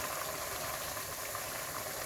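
Devilled chicken sauce with tomato sauce and soy sauce simmering in a pan, a soft, steady bubbling hiss that continues evenly without interruption.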